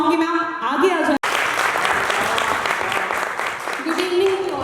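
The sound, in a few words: audience applause at launching ceremony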